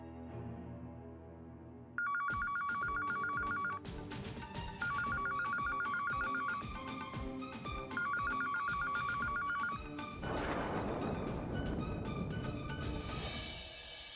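Telephone ringing in a dubbed television drama series: repeated bursts of a bright electronic ringtone, loud and close, mixed with background music and no talking.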